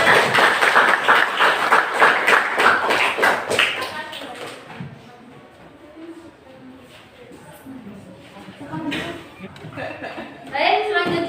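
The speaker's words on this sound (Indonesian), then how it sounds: "berikan tepuk tangan untuk kelompok 5" A classroom claps for a student group after their presentation, a short burst of close hand claps that dies away, followed by talking and a brief second flurry of taps.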